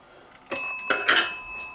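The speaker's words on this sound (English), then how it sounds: "Bell tingle when you first plug it in." Brief metallic tingle of the bell in a GPO 746 telephone as it is plugged into a PBX, a few short, bright ringing strikes with a lingering shimmer, close and fairly quiet, no talking.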